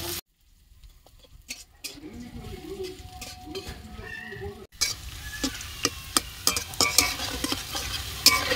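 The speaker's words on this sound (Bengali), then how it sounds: "এবার হালকা একটু ভেজে নেবো পেঁয়াজ আর রসুনটা।" Chopped onion and garlic fry in a pan for a green jackfruit dish, starting quiet then building into a close, lively sizzle with repeated spoon scrapes and clinks against the metal pan, no talking.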